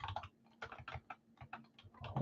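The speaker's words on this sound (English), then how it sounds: "Typing a little too fast." Rapid typing on a computer keyboard during a live sports card break stream, a dense run of close clicking keystrokes in quick irregular bursts with no talking.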